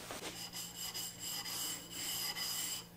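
A chisel is sharpened on a Shapton 1000 grit glass stone in steady, close, repeated back-and-forth strokes of scraping and rubbing, with a faint hum underneath.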